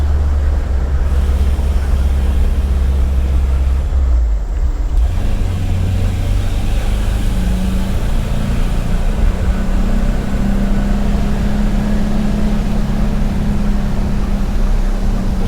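A 1984 VW Vanagon GL drives along a road, with a loud, steady engine drone and road rumble plus wind noise from the cabin. A low tone shifts partway through, and no talk is heard.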